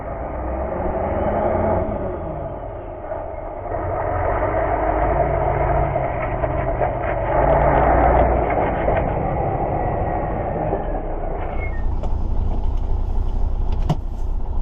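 A Scania 143 truck pulls away on the road, its engine a steady, loud rumble that swells and holds as it drives off, with no talk over it.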